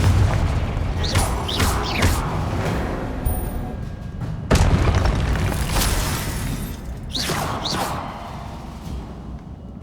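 Confringo spell explosions in the video game Hogwarts Legacy, loud booming blasts with whooshing bursts repeating over a heavy, continuous rumble of battle sounds.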